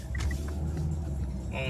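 Road traffic heard from inside a vehicle stuck in traffic on the way to work: a low, steady engine and road rumble with a voice talking over it.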